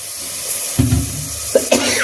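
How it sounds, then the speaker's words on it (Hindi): A person nearby coughs once, then twice in quick succession, over a faint steady hiss. "सारी दोस्तों आजकल खांसी आने लगी इस सीजन की वजह से"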